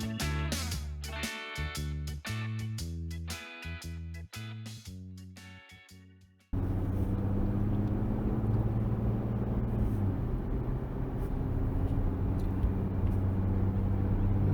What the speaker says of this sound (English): So we're driving down this Highway 90, I believe it is.